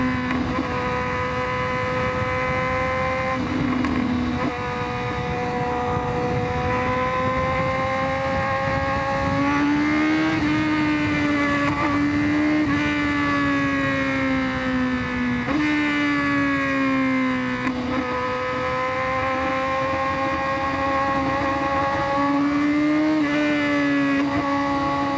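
Honda CBR1000RR-R superbike engine revving hard as it accelerates, pitch climbing then dropping sharply at each of several quick upshifts, loud and close throughout with steady wind and road noise underneath.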